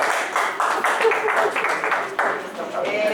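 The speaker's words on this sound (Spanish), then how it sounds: "Un aplauso, por favor." Audience applause fills a lecture hall at the close of a conference talk, a dense, steady wash of many hands clapping for the full three seconds with no break.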